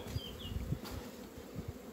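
Bees buzzing around a beehive nucleus box with a small super during an inspection, a soft steady hum with a few close buzzing passes over quiet background.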